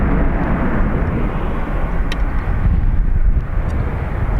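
An airliner departing the runway at Dublin Airport, a loud, broad jet engine roar heard close and continuous, steady in level with no talk over it.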